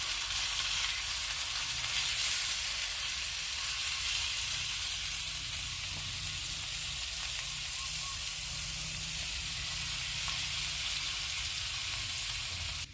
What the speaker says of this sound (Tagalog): I'm cooking grilled liempo pork belly